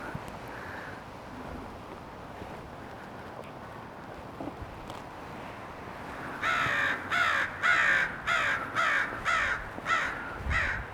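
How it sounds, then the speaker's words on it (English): Crows caw repeatedly in a loud, rhythmic burst over steady wind rumble, several harsh calls in quick succession near the end as the birds take off outdoors. "Could have done some nice slow motion here with the crows taking off"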